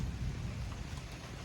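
Heavy rain from an approaching supercell thunderstorm over the Queen City pours down in a steady, dense hiss, with low thunder rumbling underneath throughout.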